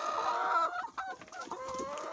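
Chickens on a small organic poultry farm clucking continuously and close, several birds overlapping with short squawks and a rising crow-like call near the end, no talking.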